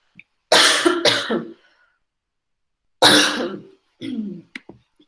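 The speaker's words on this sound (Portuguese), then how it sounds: "E aguentem a minha tosse." Several harsh, close coughs come in quick pairs, with brief silences between the bursts.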